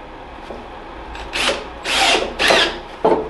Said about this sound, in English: I think these screws are gonna catch really nice now on that wood.